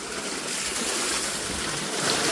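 Waterwheel generator turning in a stream, heard as a steady, loud rush of flowing water and churning that stays even throughout, close by and with no voices.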